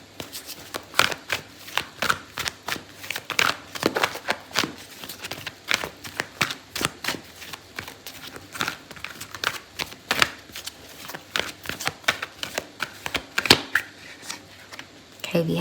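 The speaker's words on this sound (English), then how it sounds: "Okay, so I'm gonna pull out a card for your advice" Tarot cards are shuffled repeatedly by hand, a rapid run of crisp riffling bursts and soft slaps in an uneven rhythm, close and loud, with a voice speaking now and then over the shuffling.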